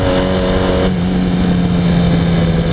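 A Yamaha R1 sport motorcycle on the move gives a steady, loud engine drone with a held low tone, joined by constant wind and road noise throughout, with no talking.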